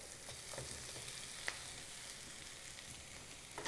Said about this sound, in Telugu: ఇప్పుడు ఇందులో కట్ చేసి పెట్టుకున్న ములక్కాయ ముక్కలు వేసుకోవాలి